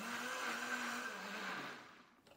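Blender whirring steadily at a constant high speed as it purées homemade pizza sauce, the motor winding down and stopping near the end.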